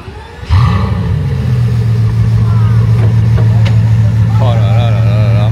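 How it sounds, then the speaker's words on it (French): A Bugatti W16 quad-turbo engine cranks and fires with a sharp bark, then settles into a deep, loud, steady idle up close on a Monaco street, with voices talking over it. "On va écouter le démarrage du W16 Quadri Turbo."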